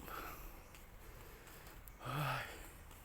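Heavy, breathy panting from a man who has walked uphill in a hillside park, faint and close, with a soft exhale early and a louder gasping breath near the end.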